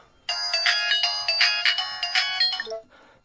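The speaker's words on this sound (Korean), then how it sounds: "그런데 그때 조조에게 한 통의 전화가 걸려온다." A telephone rings with an incoming call for Cao Cao in a Korean radio drama retelling of the Three Kingdoms: one electronic ringtone melody of bright repeating notes, loud and close, lasting about two and a half seconds before cutting off, with no voices over it.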